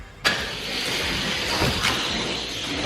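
Hot Wheels die-cast McLaren P1 weighing 29 grams released down a racing track: a sharp click at launch, then a steady rolling rumble of small plastic wheels that swells slightly as it runs.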